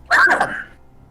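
A single short, sharp cough, close and fairly loud, with a quick breathy tail that fades into quiet.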